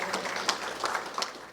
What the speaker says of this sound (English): lusty round of applause.